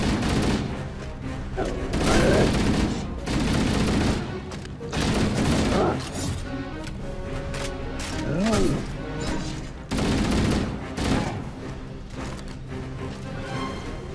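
Weapon fire in Halo: Combat Evolved Anniversary on Legendary difficulty, bursts of shots and impacts with mechanical clatter and a few booms, recurring every couple of seconds while players talk and laugh over it.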